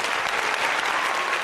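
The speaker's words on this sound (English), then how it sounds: "You like that new applause?" Applause sound effect played on a morning talk show, a brief, dense, uniform burst of crowd clapping at steady loudness.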